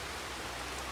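Rain falls in Farming Simulator 25 during a Tuscan winter, a steady, even hiss of downpour with no pauses or other sounds.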